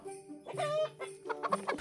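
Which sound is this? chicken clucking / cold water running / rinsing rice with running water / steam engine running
chicken clucking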